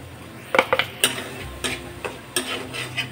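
A utensil scrapes and clinks against a wok while stirring mango pulp with sugar, in several sharp, irregular taps and scrapes close up, with no talking.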